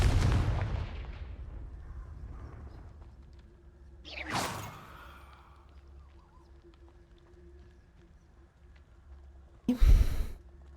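A Confringo blasting spell fired in the Hogwarts Legacy video game: a sharp whooshing burst near the middle, then a louder close explosive blast near the end, over low ambient game rumble.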